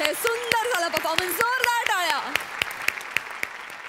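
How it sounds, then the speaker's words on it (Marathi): A studio audience at a Marathi television comedy show claps after a sketch. A voice talks over the start, then scattered, uneven claps continue at moderate loudness. "जोरदार टाळ्या"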